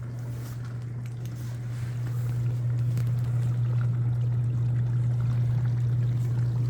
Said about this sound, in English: Dishwasher's been running for approximately 50 minutes.